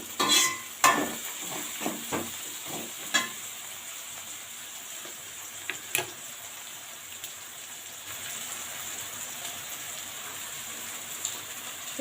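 Vegetables sautéing in a pan for a broad bean stir-fry, a quiet continuous sizzle with several clinks and scrapes of a spatula early on, thinning to a soft hiss.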